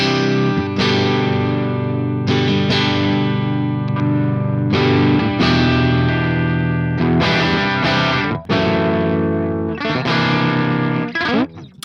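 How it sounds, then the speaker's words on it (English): High-gain distorted electric guitar through the Neural DSP Archetype Nolly amp plugin, chugging riffs with sharp palm-muted stops and ringing chords, loud, dense and continuous with no voice. "this is definitely a high gain amp"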